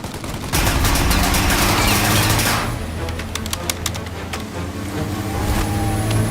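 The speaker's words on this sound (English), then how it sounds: "Shoot out their gun when there's a break in their fire!" Rapid gunfire crackles through a shootout in Mafia: Definitive Edition, with dense overlapping shots in loud bursts, a brief lull in the middle, then renewed volleys.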